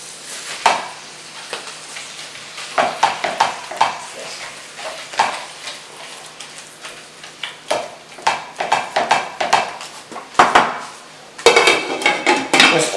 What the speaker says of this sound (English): now I'm going to add my sweet Italian also to the skillet with my ground meat